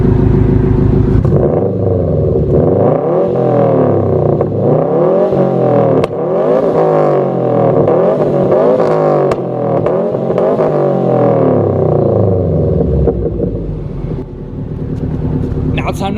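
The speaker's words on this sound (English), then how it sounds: "why not start out with some revs from C&T, catted downpipe," Subaru WRX/STI with a catted downpipe and muffler delete revs repeatedly, a loud, raspy engine note rising and falling in several sharp pulls before settling toward idle, close to the car.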